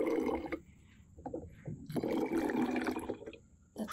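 Strawberry lemon mead vinegar is poured into a container in two gurgling, splashing streams with a brief pause between them, close and moderately loud.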